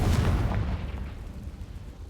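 A Confringo fire spell cast in the Hogwarts Legacy video game bursts with one loud, close explosive boom that rolls into a rumbling decay lasting about two seconds, with no talking.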